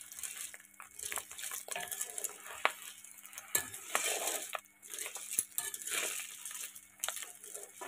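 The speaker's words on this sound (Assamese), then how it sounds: "এই টপ টপ চাউণ্ডটো শুনিছে? এতিয়া গম পোৱা যায় যে ভাজি পূৰা হৈ গৈছে।" Snail meat frying in a pan gives quiet, scattered pops and crackles with light clinks of a utensil against the pan, soft and close, with no talking.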